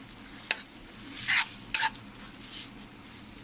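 Noodles tossed with egg bhurji in a hot pan give a faint sizzle under a few sharp scraping and stirring strokes, spaced irregularly and heard close up.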